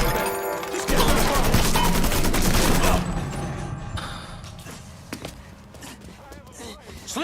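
Dense gunfire bursts in the video game Mafia 3, with rapid automatic shots crowding the first seconds and then thinning to scattered impacts and clatter, while voices shout over the action.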